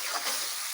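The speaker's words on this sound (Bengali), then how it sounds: "চলো মশলাটাকে হালকাভাবে একটু ভেজে নিই।" Spice paste with tomato puree fries in a pan, giving a steady, soft, hissing sizzle that lasts under a second with no voices.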